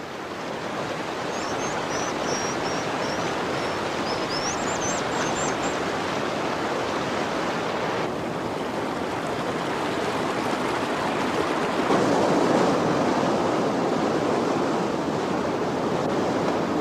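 A racing mountain stream in Grand Teton rushes steadily, a dense continuous wash of water noise close by, with faint bird chirps early on and no voices.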